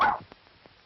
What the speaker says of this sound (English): I want big dogs. I want big barks.